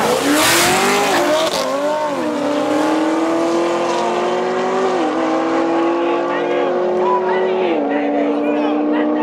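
A Honda CRX with a K-series engine doing a burnout: a loud, sustained high-revving engine wail with shifting pitch and squealing tires, close and continuous, with voices underneath.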